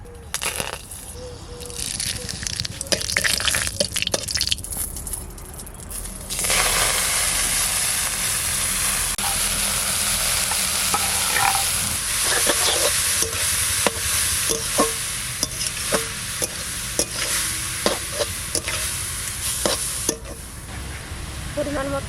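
Cumin seeds and bay leaves sizzle in hot oil in a wok as tempering for a Bengali kalai greens ghonto; a strong hissing fry swells after a few seconds, with scattered sharp clinks and scraping stirs.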